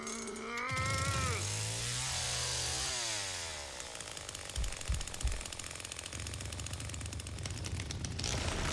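Chainsaw in the Texas Chainsaw Massacre video game, revving up with a rising whine and then roaring into a sustained buzzing cut with rattling hits, loud and close.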